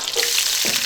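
Ginger and garlic fry in lard with bamboo shoots in a wok in a rural kitchen, a close, continuous sizzle with a brief stirring scrape partway through and no talk.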